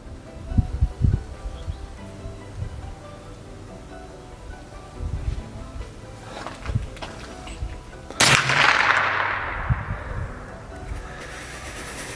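Pistol shots at an outdoor shooting range in Canada: a few sharp, scattered reports against quiet background, with one much louder, closer crack near the end followed by a lingering echo.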